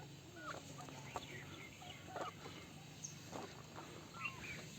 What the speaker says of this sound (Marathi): ह्या गावरान कोंबड्या पालन केलेलं आहे त्या खूप भारी आहेत